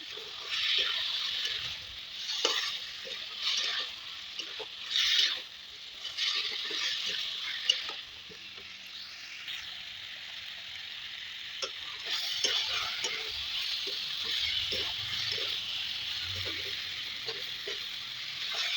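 Spice paste (masala) for a chicken curry stir-fried with water in a pan, giving soft wet sizzling and stirring scrapes with faint clicks, steady and fairly quiet throughout with no talking.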